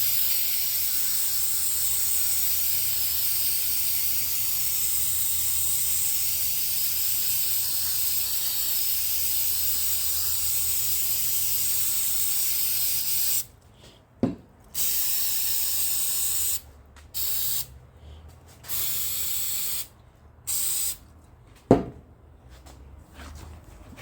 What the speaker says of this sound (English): So just going to spray all the hardware in the cylinder down with brake cleaner, just to neutralise all that vapor rust.